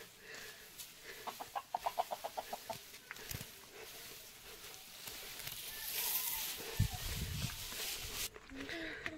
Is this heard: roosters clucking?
yes